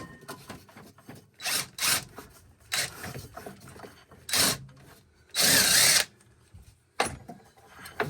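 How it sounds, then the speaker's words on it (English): A power drill removes bolts from the secondary clutch of a Yamaha 660 Rhino in several short bursts, each a few seconds apart. The last burst is the longest and loudest, with clanks and handling noises between bursts. "I'll just take out these bolts to allow the secondary clutch to spring back out"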